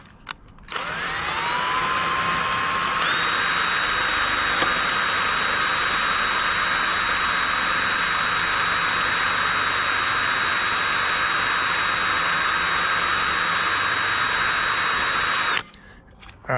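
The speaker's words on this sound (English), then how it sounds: "we are trying to drill through stainless steel" A power drill bores into stainless steel in a long, steady, loud high-pitched whine that ramps up at the start, holds for about fifteen seconds and then stops abruptly.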